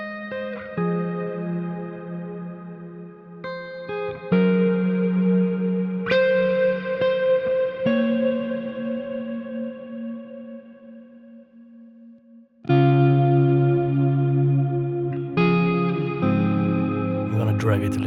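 A clean electric guitar tone runs through the Neural DSP Archetype Plini amp plugin, with sustained chords and ringing notes under chorus and echo effects, decaying between strums and then struck again loudly near the end.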